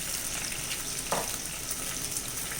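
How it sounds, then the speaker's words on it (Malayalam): Ground masala paste goes into a sizzling pan of softened onions for tuna curry, giving a steady bright frying hiss with a brief wet splash partway through. "നമുക്ക് അരച്ച് വെച്ചിരിക്കുന്ന അരപ്പ് ഇതിലേക്ക് ഒഴിച്ചു കൊടുക്കാം."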